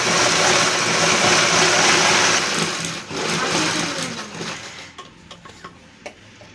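A sewing machine runs in a steady whirring burst as it stitches a folded frock fabric edge with wire inside. It then slows to a halt, leaving a few scattered clicks and ticks.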